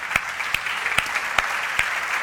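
Applause in a church congregation honoring the prayer group: steady dense clapping throughout, with a few sharper claps standing out at regular intervals.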